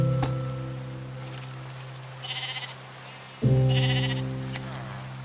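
Sheep bleating in the Minecraft video game on a sheep farm: two separate bleats, moderately loud, set against a steady tonal game background with a soft patter like rain.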